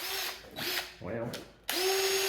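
A power drill with a bit runs in several short bursts of whining. The motor pitch rises and falls as it starts and stops, and a pause near the middle separates two spurts.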